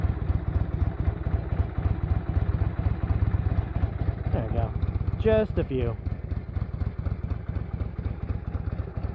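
A 1982 Harley-Davidson FLH motorcycle engine idles steadily after startup with a close, even low-pitched pulse throughout, while someone talks briefly over it.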